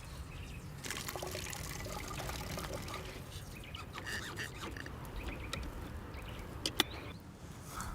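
Rinsed microplastic water sample poured out in one steady, faint trickle with light splashy spatter throughout, close and quiet, ending with a couple of small drips.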